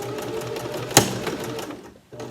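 A regular home sewing machine stitches through t-shirt fabric, a close, steady mechanical whir with one sharp knock midway before the motor briefly stops and starts again.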